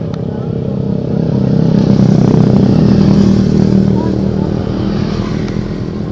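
A motorcycle engine drones steadily and loudly up close during a stopover on a group ride, holding a continuous low throbbing hum with slight swells in intensity.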